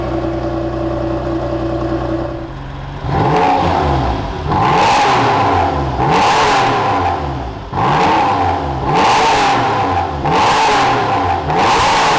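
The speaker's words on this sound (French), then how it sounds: "Je vais vous démarrer la voiture pour que vous écoutiez le Flat 6 Atmo" Naturally aspirated flat-six engine starting after a quiet idle hum, then revved hard in repeated loud blips through the exhaust, about five rising-and-falling pulls with no talking.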